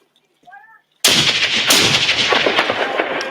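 A grenade blast erupts suddenly and loudly, then rolls on as a long, dense rumble of debris and echo. A brief voice is heard just before it goes off.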